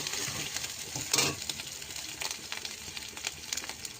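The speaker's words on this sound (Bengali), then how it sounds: "রসুনটা ভাজাচ্ছে, গ্যাসটা একটু আস্তে দিই।" Ginger garlic paste frying in a pan on a gas stove gives a soft steady sizzle, broken by occasional scraping stirs, with no talking.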